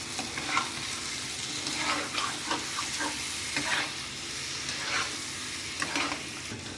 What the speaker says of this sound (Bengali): ভালোভাবে লঙ্কার গুঁড়োটা দিয়ে একটু আমি কষিয়ে নেব।